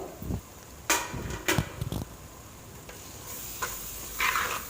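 Chicken liver and gizzard masala with coriander leaves stirred in a pan, scattered scraping and clacking strokes over a faint sizzle, no talk.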